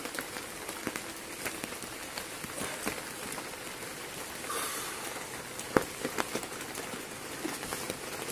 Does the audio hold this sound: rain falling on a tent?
yes